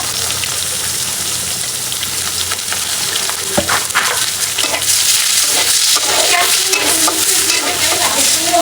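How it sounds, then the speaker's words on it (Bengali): Chopped onion fries in a hot pan with a loud, constant sizzle and bursts of scraping as it is stirred. "পেঁয়াজ কুচিটা দিয়ে দিব"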